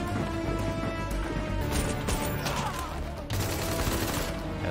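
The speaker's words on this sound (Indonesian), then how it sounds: "Dan aksi kejar-kejaran serta tembakan pun terjadi." Bursts of rapid gunfire crackle amid crashing impacts and a loud busy action soundtrack during a chase in the film Last Man Down, with no clear speech.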